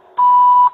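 An answering machine gives its single beep after a recorded greeting, a clean steady electronic tone lasting about half a second, loud and close, ending abruptly.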